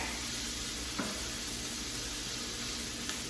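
Chopped celery and onion fry in a pan, giving a steady, even sizzle and hiss, close and constant, with a couple of faint taps from a utensil.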